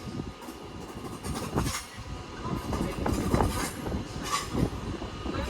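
A London Northwestern Railway train pulls out of London Euston bound for Tring, its wheels clattering and clicking rhythmically over the rails close by, with faint squeals under the rumble.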